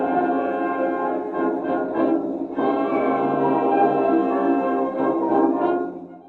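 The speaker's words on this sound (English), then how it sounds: "The first recording is of the Egmont Overture by Beethoven." A 1913 acoustic recording of Beethoven's Egmont Overture played by the London Symphony Orchestra under Nikisch: sustained orchestral chords and strings, band-limited and boxy with the dull thin tone of early recording, continuous and fairly loud.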